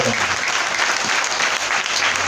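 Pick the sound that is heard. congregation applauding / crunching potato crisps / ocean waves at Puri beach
congregation applauding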